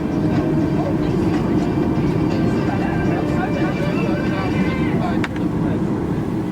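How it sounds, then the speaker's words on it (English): Airliner engines spool up in Microsoft Flight Simulator, a loud, steady low rumble with a faint rising whine, heard alone with no talk, briefly dipping near the end. "I started both of the engines."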